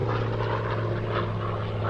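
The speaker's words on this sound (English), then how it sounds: "Now get that plane in the air." Propeller warplane taking off from the USS Enterprise carrier deck in the video game Air Conflicts: Pacific Carriers, a steady loud engine drone with a low hum running unbroken throughout.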